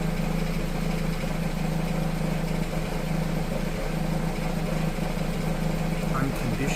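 An Audi 2.0 TFSI engine idles with a steady, even drone and a low hum, while someone speaks over it.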